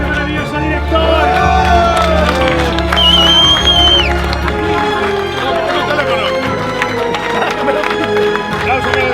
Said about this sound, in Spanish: ¡Aplausos para el equipo, brutal!